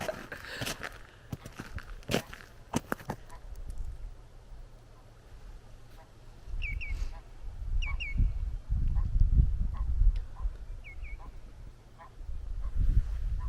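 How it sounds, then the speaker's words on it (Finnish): Ducks and geese on the sea off a Finnish forest cabin give a few short honks and quacks at a distance, heard over wind, water and occasional handling knocks. "mä katoin noita ankkoja ja hanhia uiskentelemassa täällä meressä"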